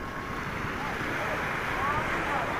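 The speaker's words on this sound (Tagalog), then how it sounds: "hindi pwede ang bangka rito kasi medyo maalon yung ating dagat" Steady rushing surf and wind noise fill the clip, a continuous roar of waves with no distinct breaks.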